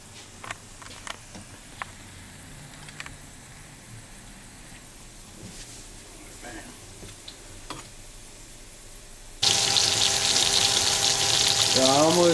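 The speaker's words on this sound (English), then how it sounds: "We fried the carp today that we caught at Lake Hencha." Carp caught at Lake Hencha frying in a pan: faint ticks and light crackle at first, then a sudden loud, steady sizzle that fills the last few seconds up close.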